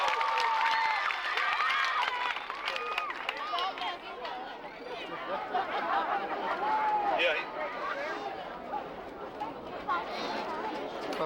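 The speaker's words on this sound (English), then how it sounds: "Let's give them another round of applause." A crowd of young people applauds and chatters at a 1994 bill-signing event with President Clinton, a steady mix of clapping, cheers and lively babble throughout.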